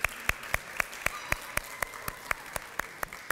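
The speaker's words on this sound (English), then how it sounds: "Give them a round of applause, please." Applause for graduates at a World Refugee Day celebration and graduation ceremony, heard as faint, evenly spaced sharp claps ticking along in a steady rhythm.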